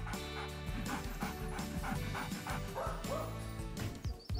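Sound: dog barking

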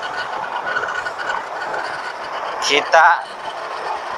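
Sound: train passing on the railway line

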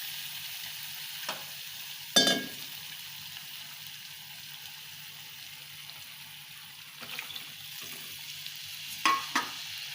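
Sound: cooked bottle gourd frying and stirred in spice mix

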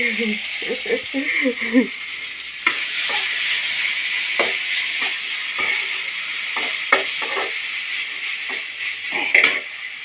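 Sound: yam stir-fry frying in pan

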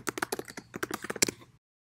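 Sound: typing on a computer keyboard

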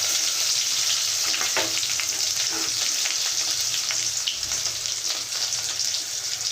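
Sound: garlic, dried chillies and onion pieces frying

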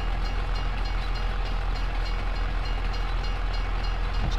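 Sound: Canadian freight train passing in Farming Simulator 22 video game

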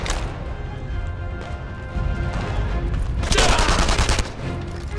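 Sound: gunfire in video game Enemy Front

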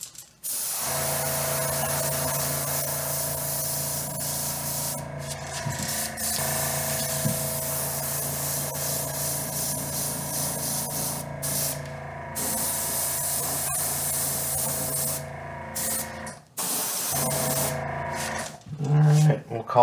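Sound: spray gun applying second base coat of paint

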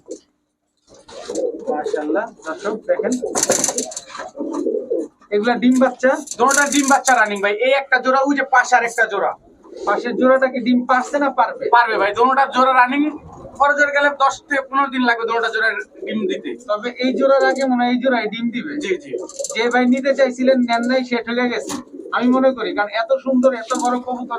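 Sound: pigeons cooing at a pigeon shop

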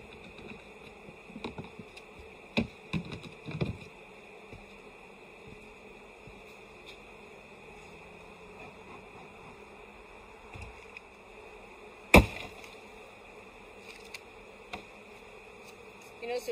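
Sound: honeybees buzzing and flying around the hive

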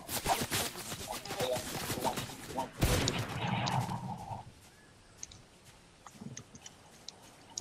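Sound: gunfire from enemies on a roof in a video game

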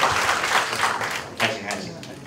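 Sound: audience applause after a lightning talk

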